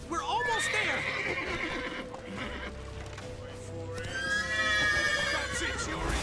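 Horses in The Witcher 3 video game whinny loudly amid clip-clopping hooves and a busy scene, while characters shout over the noise throughout.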